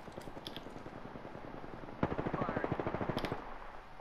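Rapid automatic gunfire in a video game, a steady burst of dense repeated shots that grows louder and sharper midway before cutting off, with no talk over it.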